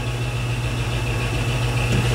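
A metal lathe running with the carriage power feed engaged while turning and knurling, a loud, steady mechanical hum with a low drone and a constant higher whine.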